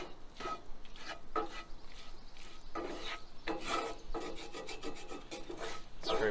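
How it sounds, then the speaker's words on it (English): A utensil scrapes and rubs against the sides of a pan while sausage gravy is mixed at a campsite, repeated close raspy strokes in an uneven rhythm, fairly quiet, with no talking. "Scrape all the sides."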